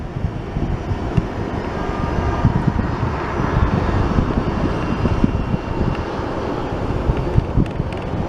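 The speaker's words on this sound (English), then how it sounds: "This is our Charlotte flight." A FedEx cargo airplane passes overhead in the desert Southwest with a sustained, broad jet roar that rises and holds, mixed with wind buffeting the microphone.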